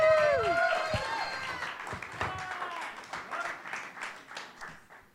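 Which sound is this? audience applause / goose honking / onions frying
audience applause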